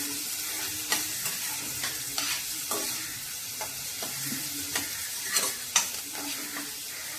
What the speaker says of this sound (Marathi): आपण हा चांगला कांदा परतून घेणार आहोत